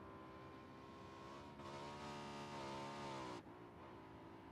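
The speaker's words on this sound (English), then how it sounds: "A vehicle flying by." A vehicle engine in PUBG hums steadily at a distance, rising and swelling briefly as it passes before fading back to a constant drone.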